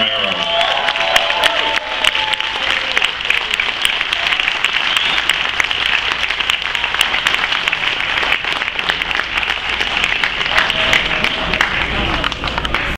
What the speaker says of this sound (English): please a big round of applause for George A. Romero